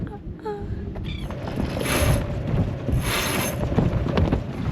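Steady gusting wind roars across the microphone, with broadband rushing noise and faint water and boat sounds underneath, no clear talking.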